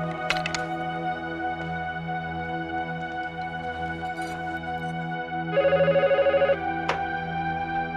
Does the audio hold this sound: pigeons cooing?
no